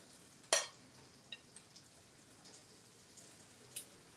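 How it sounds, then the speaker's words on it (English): Korean vegetable pancake batter sizzles in a shallow heated pan, a faint, steady crackle with a few sharper pops scattered through it and no talking. "You hear them sizzling already."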